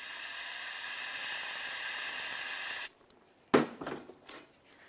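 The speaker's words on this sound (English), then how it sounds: "I'm just going to go ahead and put some parts cleaner right inside there" Parts cleaner sprays in a steady, close hiss for about three seconds into the brake caliper slider ports of a 2007-12 Nissan Sentra. The spray stops abruptly, followed by a few faint clicks and rustling handling noises.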